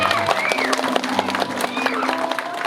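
Audience applause fills a comedy show venue, a steady wash of clapping and crowd noise that runs the whole time, with tonal sounds and voices layered over it.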